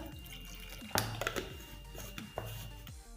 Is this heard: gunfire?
no